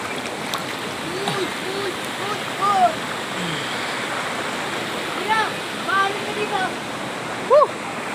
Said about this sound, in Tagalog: San Isidro Falls.